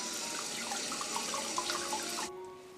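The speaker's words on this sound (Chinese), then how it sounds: "先把这个鸡呢给它清洗一下" Tap water runs steadily over a whole free-range chicken being rinsed in a sink, with soft splashing and shifting water sounds close up, then the flow stops abruptly near the end.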